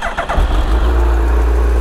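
A Suzuki Hayabusa superbike with a stock exhaust cold starts up close: a quick crank catches, then settles into a loud, deep, steady idle rumble.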